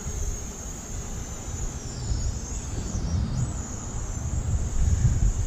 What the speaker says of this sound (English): So I apologize for the wind noise.